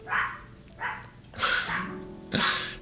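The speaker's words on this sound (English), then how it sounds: "Dogs." Dogs barking indoors, four loud, separate barks in an uneven rhythm, close by with no talk over them.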